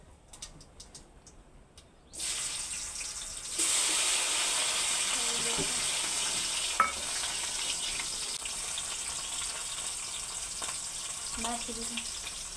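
Tomatoes and green chillies hit hot oil with asafoetida and sizzle in a steady, close frying hiss, with occasional stirring clinks from a spoon against the pan.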